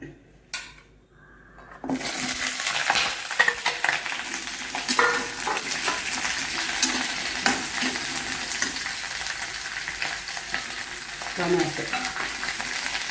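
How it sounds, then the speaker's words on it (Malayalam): Vegetables including drumstick, cucumber, tomato, broad beans and potato drop into hot oil in a frying pan for sambar, with a brief quiet moment before a loud, steady sizzle that continues close by with light stirring. "ഇനി നമുക്ക് വേറെ ചീനിച്ചട്ടിയിൽ എണ്ണ ഒഴിച്ച് ഈ വെജിറ്റബിളിനെ ഇടാം."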